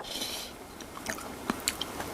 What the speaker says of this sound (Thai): เคี้ยวแล้วแบบไข่เล็กๆมันละลายในปาก